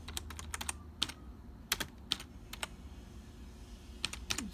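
A name typed on a computer keyboard: quiet, close clicks come in short irregular bursts with brief pauses between them, over a faint background hum.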